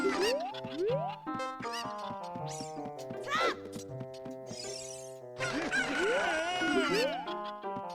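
Cuckoos in Zelda: Ocarina of Time, the game's chickens, cluck and squawk repeatedly in bright, rising calls, mixed with game music and effects and loud throughout.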